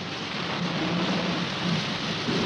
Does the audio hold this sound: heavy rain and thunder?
yes